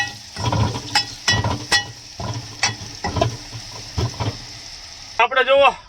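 Food sizzles in a pan while a spoon stirs it in short repeated scrapes and pulses, ending with a voice talking.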